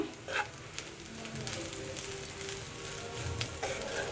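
Egg fried rice being stirred in a pan with salt, chili powder and garam masala, giving a steady low sizzle broken by soft scraping and tossing sounds throughout, with no talking.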